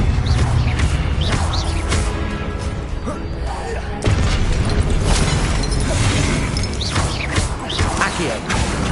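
A Levioso spell cast in Hogwarts Legacy on PS5 lands as a dense wash of magical whooshes, crackling bursts and booming impacts, loud and continuous, with game music and a voice mixed in.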